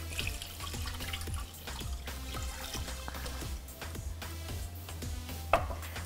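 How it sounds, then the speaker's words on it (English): Unsweetened almond milk is poured into a medium saucepan, making a soft continuous liquid trickle with small splashes and drips, quiet and close, with no talking. "add some almond milk, and I'm using unsweetened almond milk"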